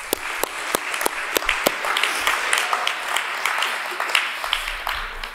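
An audience in a hall applauds to encourage a performer at a staged trial of Antigone, with a dense, steady run of clapping and some sharp individual claps standing out throughout.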